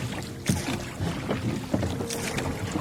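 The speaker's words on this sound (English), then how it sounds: "Let's take Wanda out for a sail." Sailboat Wanda under way in wind on a fjord with strong current, with steady wind rush and water wash around the hull and a few louder gusts or slaps, no talk.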